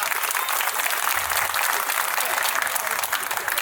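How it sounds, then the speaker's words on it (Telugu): Friends at a school class reunion clap for their teachers, a loud, sustained round of applause from a hall full of people, with a faint murmur of voices underneath. "Please clap friends."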